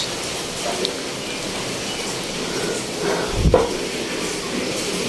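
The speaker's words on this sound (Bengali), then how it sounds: "এই যে বৃষ্টি পড়তেই আছে" Rain falls steadily with wind, a dense, even hiss of moderate loudness with a brief louder gust or thump near the middle and no talk.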